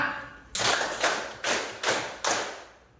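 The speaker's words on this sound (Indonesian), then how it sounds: "Tepuk 5" A class claps out the 'tepuk 5' pattern together: five sharp, evenly spaced group claps in a steady rhythm, close and fairly loud, with no talking.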